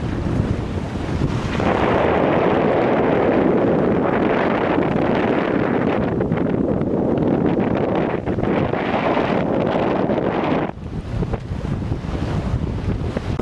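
A sailboat heading toward Vis, Croatia, with strong wind buffeting the microphone and water rushing past the hull in a loud, steady roar that continues throughout and eases slightly near the end.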